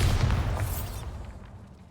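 Bombarda explosion spell in Hogwarts Legacy, one loud booming blast with a hissing, crackling tail that fades out over about a second.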